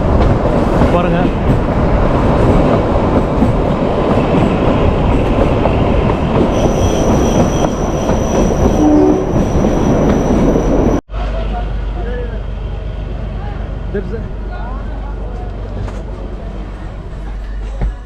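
Kalka–Shimla toy train running through fog on the mountain railway, a loud continuous rumble of wheels and carriages with squealing rail noise and clatter, then an abrupt drop to a quieter steady roll partway through, with a voice heard over it.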